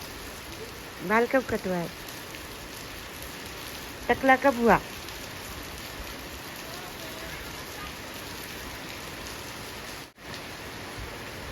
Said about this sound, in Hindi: आज अचानक से इतनी तेज़ बारिश शुरू हो गई